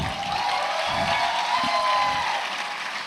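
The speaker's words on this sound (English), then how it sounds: "And a round of applause that they'll hear it in Dubai." A crowd at a tech fair cheers and claps in a continuous roar, loud and sustained throughout, with a steady tone under the noise.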